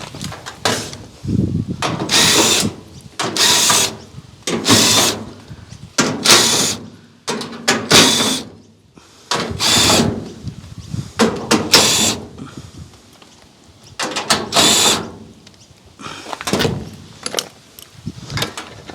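A power driver with a quarter-inch hex bit works on an LG front-load washing machine, with repeated loud bursts of whirring and ratcheting separated by short pauses, close up and without talk.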